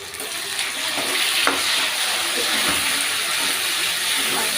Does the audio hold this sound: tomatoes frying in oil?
yes